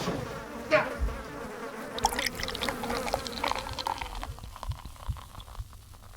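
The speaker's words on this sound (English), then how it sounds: "What is that? Oh god, the bees." A dense swarm of bees droning loudly and steadily in the 1978 disaster film The Swarm, a thick continuous buzz that fades somewhat toward the end.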